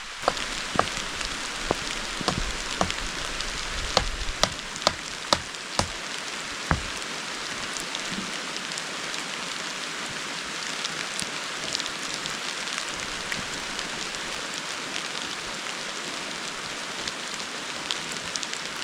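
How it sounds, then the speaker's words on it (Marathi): Steady heavy rain pouring down with a constant dense hiss, a few sharp drip or tap sounds early on, no voices. "कुंपण घालता घालताच मोठा पाऊस आला आहे"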